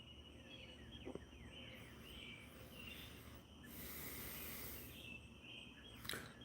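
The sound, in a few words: birds singing outside on a porch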